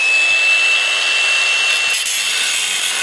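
An abrasive cutoff wheel slices through steel for a work truck bumper, giving a loud, steady, high-pitched grinding hiss that holds continuously from start to finish with no talk over it.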